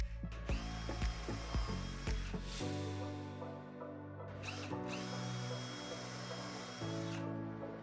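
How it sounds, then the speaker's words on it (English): A power drill pre-drilling a 1x2 wood board with a skinny bit, close and loud, with a few quick start-stop bursts followed by longer whining runs of the motor, each pitching up as it spins. "We always pre-drill these with a skinny drill bit to ensure that 1x2 doesn't split."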